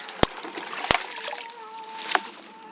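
Raspberry plants lifted out of standing water in a garden, with sharp splashes and drips, a couple of loud slaps early and a lighter splash later, close and fairly quiet.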